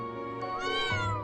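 A cat meows once in the video game Trails of Cold Steel 3, a short, clear, close mew that rises and falls in pitch.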